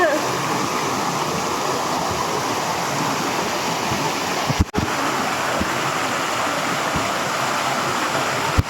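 Steady rushing water of a mountain stream on Lantau, Hong Kong, flowing continuously, fairly close, with a couple of brief handling bumps.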